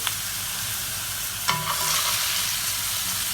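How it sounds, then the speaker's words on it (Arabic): A leg of lamb hits a pan of hot butter, giving a sudden loud sizzle that settles into steady close frying after a quiet bubbling start. "نزلت بالزبده، انزل بالفخده كده بالشكل ده كده"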